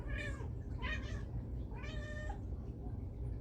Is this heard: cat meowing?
yes